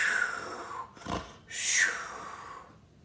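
A voice imitates a pig snorting with several breathy, nasal snorts and snuffles in short bursts, close up and moderately loud.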